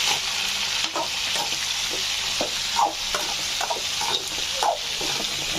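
Carrot, mint and tomato with onion and chana dal sauté in a hot pan for carrot chutney, a constant close sizzle broken by several soft scraping stirs of a spoon.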